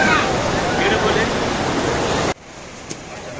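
Kalu waterfall in Maharashtra roars as a loud, steady broadband rush for about two seconds, then cuts to a much quieter, distant water hiss with a brief faint knock.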